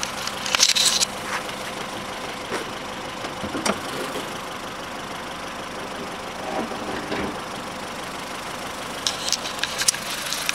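A 2007 Ford Fusion Zetec 1.6 petrol engine idles steadily with the bonnet up, a low even hum broken by a few faint clicks and knocks, heard up close.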